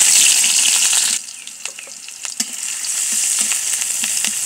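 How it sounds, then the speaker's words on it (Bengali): Onions frying in oil in a wok, a loud hissing sizzle that drops sharply after a second, then crackles with stirring scrapes and builds back to a steady sizzle. "পেঁয়াজটা আমি একটু ভেজে নিব।"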